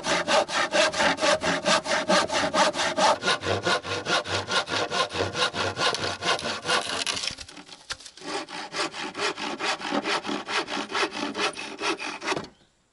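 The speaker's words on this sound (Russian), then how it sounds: "буду сейчас допиливать этой." A hand saw cutting through a wooden board for a gazebo floor, with steady back-and-forth rasping strokes close up, a brief pause midway, then more rhythmic sawing until it stops.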